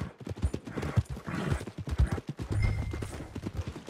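Horse hooves clip-clop in a steady, uneven rhythm in Red Dead Redemption 2, near and fairly loud, with a low rumble joining under the hoofbeats in the second half.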